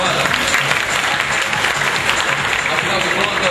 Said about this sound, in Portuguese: vamos dar uma salva de palmas mais uma vez para a Amanda?